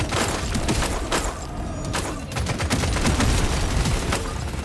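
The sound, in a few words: piercing homing rifle gunfire in DRG Survivor video game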